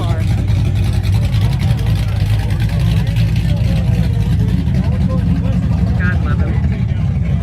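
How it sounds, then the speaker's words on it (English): At a first-generation Camaro club meet during Cruisin the Coast, a car engine runs with a steady, loud low rumble and revs slightly, while someone talks close by throughout. "He's starting his car."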